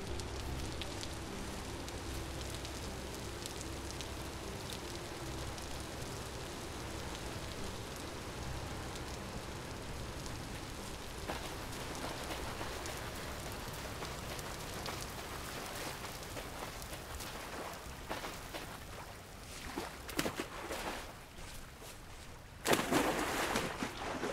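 Steady rain in a video game patters on surfaces at a low level, with scattered droplet ticks, ending in a brief louder burst.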